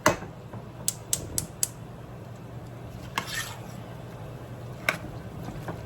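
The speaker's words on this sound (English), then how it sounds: "Gonna give this a nice stir." Tomato salsa for canning is stirred in a pot, giving a few sharp utensil clicks against the pot and soft scraping bursts over a steady low background hum, with no voices.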